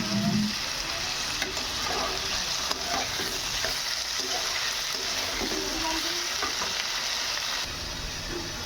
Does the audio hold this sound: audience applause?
no